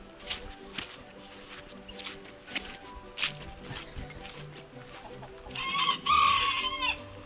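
Backyard chickens cluck and shuffle nearby in soft, scattered bursts, then a rooster lets out a loud crow near the end, with faint footsteps in the background.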